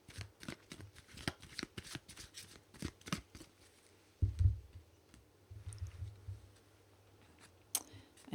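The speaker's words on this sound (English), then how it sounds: "Let's pull an animal card as a support card for this," A deck of animal oracle cards is shuffled with quick, crisp riffling clicks and flutters, followed by a soft thump and light card handling as cards are pulled. The sound is close and quiet.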